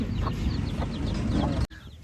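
A desi hen clucks in low, steady calls close by, with faint chick peeps over the top, before a sudden cut leaves quieter background sound.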